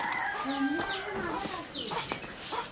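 Chickens cluck and a rooster calls in a village farmyard on a rural morning, brief repeated squawks close by over steady outdoor background noise.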